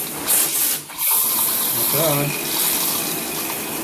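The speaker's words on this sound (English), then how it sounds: "here I have my nearly 10 or 5 to 10 year old shower head, and let's see how fast the water goes on this one" Water spraying from a five-to-ten-year-old shower head, a steady close rushing hiss that runs throughout, with a short spoken comment partway through.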